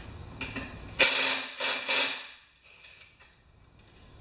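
A 3/8-inch ratchet on the shroud bolts of a 5-6HP Briggs Quantum push mower gives a loud burst of clicking, then two shorter bursts close to the mic, and fainter scattered clicks after them.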